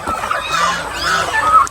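Hens cluck in short, uneven bursts on a small chicken farm with many laying hens, fairly close and busy, with no voices over them.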